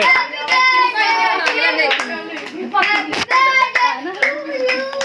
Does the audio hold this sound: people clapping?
yes